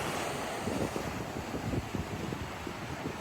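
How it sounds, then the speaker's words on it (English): Ocean surf rolling onto a beach at Corito Bay under brisk wind, a constant broad roar of breaking waves and gusting air buffeting the microphone, loud and unbroken throughout. "A lot of rollers coming in."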